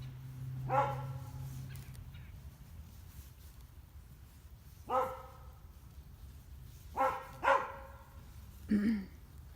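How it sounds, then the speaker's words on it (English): A dog barks outside in a series of bursts: one bark, a pause of several seconds, then a quick pair and a last bark, all moderately distant over a low steady background hum. "She would decide to bark right now"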